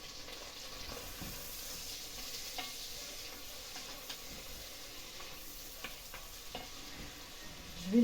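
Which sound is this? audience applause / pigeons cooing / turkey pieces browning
turkey pieces browning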